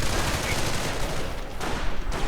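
Two heavy machine guns firing in a World War II strategy video game, steady rattling bursts under continuous dense battle noise, with commentary talk over the top.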